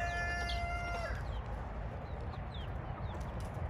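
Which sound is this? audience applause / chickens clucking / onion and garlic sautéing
chickens clucking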